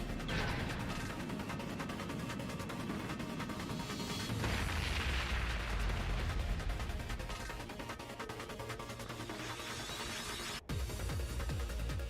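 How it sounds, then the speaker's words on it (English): A long-range orbital cannon fires in the role-playing video game Trails of Cold Steel 2, a sustained roaring blast that builds into a deep rumble, loud and dense with no speech. "Is that a long-range orbital cannon?"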